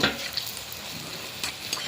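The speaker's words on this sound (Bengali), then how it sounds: "এক পিট ভাজা হয়ে গেছে" Banana fritters fry in hot oil with a close, steady sizzle, briefly punctuated by a couple of light utensil taps.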